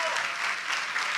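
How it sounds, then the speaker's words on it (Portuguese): Audience clapping at a literature panel event, dense and steady throughout, a continuous wash of applause with no voices standing out. "Mais aplauso, mais aplauso"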